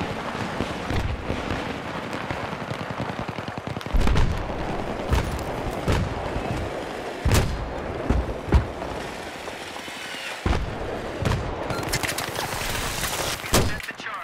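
Battlefield 3 combat rages with repeated gunfire and heavy mortar and explosive booms, a dense, continuous barrage of shots with periodic louder blasts, and no clear talking.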